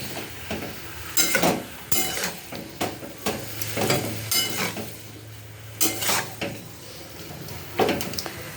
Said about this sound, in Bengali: দিয়ে দিলাম হলুদ, দিয়ে দিলাম নুন পরিমাণ মতো। এবার ভালো করে মিশিয়ে নেব।